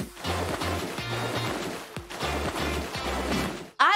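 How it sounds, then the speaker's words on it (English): Ocean waves wash in steady, repeated surges under a low rhythmic musical bed, with a brief break midway and an abrupt cut at the end. "I love hearing the waves."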